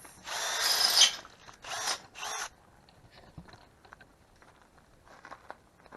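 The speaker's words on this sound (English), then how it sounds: "I'm making holes for the wires for the tail light" Power drill boring holes for tail light wiring in a homemade triple-axle trailer, with two or three short loud whirring bursts in the first half followed by faint scattered clicks and handling noise.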